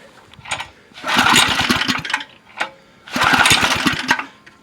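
Small go-kart engine just after a clutch repair, cranked twice: two loud bursts of rough, rapid chugging firing, each lasting about a second and a half, separated by a short pause, close by with no talk.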